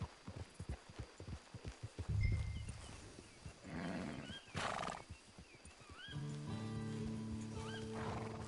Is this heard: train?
no